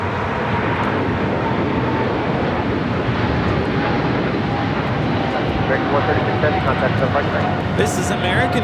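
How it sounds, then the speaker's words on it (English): An American Airlines Boeing 777-300ER takes off from LAX as a broad, sustained jet roar that holds steady, with a faint whine rising above it and some wind noise. "This is American Airlines 136 taking off to London Heathrow on a 777-300ER"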